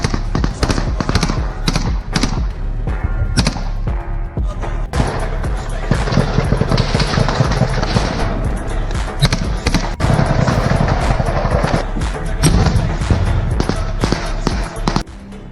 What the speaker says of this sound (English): Bullets strike the asphalt nearby